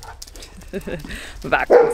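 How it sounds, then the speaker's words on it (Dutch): A dog barks a few times beside a car with a horse trailer being readied for loading, the short sharp barks landing late and mixed in with nearby talking. "Daarom gaat hij blaffen."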